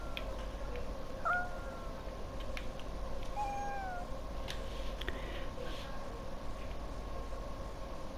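A frightened British Shorthair cat at a vet clinic in a pet clinic game gives a few faint, short meows over a steady low background hum.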